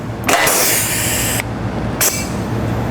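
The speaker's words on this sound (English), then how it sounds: "So we're just going to use our rivet gun and make sure you get both of these in there" A rivet gun sets stainless steel rivets on a Jeep Wrangler JK mid-width front bumper, two sharp bursts of hissing, clanking mechanical noise standing out over a loud, constant background hum.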